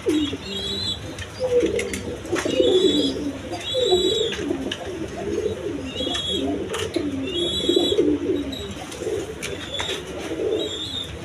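Big golla Giribaz pigeons of mixed breeds coo steadily in a breeding loft, a chorus of close, low throaty calls repeating without pause, with occasional higher chirps and brief wing rustles mixed in.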